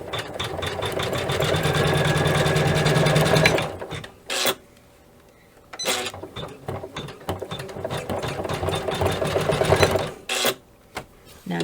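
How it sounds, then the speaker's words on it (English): A sewing machine stitches backing fabric for a zipper pouch with a dense embroidery-style design, running in a steady whirring, clattering burst, pausing briefly, then running again in several close, loud stretches. "lay it over and get ready to stitch"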